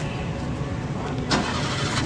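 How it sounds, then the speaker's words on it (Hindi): A Changan Karwan engine cranks and catches with a brief burst around the middle, then settles into a steady idle, close by and fairly loud, with no talking over it. "अरे गाड़ी का स्टार्ट करें"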